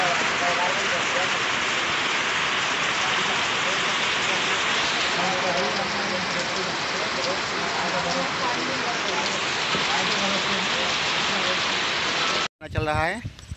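Heavy monsoon-style rain pouring onto a flooded street and shopfront in Uttar Pradesh, a loud continuous roaring hiss that holds steady, then cuts off abruptly just before the end, followed by a brief louder burst.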